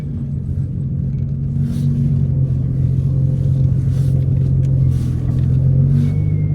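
A Nissan GTR engine on a road lap, a steady low rumble that swells in places as if revving, heard from inside the car with no talking.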